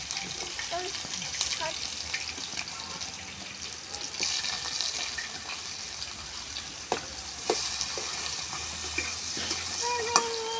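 Mango and drumstick curry cooks in oil with a continuous hissing sizzle at moderate volume. A few faint clinks and stirring scrapes are scattered through it.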